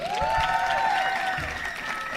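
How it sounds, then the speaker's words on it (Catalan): Applause for a speaker at a live university event, a broad steady wash of clapping with a tonal voice or whistle-like sound rising briefly over it near the start, the clapping continuing evenly and fairly soft. "Un fort aplaudiment per la militant de l'OJS UAB, la Rocío"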